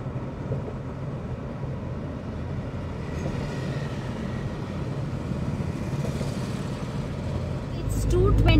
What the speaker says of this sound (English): There are two goods trains crossing each other.